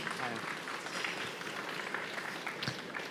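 An audience at an industry trophy ceremony applauds, a dense, steady wash of clapping with faint voices underneath, held at moderate volume for a few seconds.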